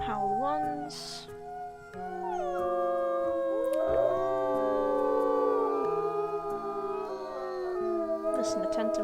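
Wolf howls in the WolfQuest game, several drawn-out rising and falling calls layered together in a sustained, fairly loud chorus over a steady musical backdrop.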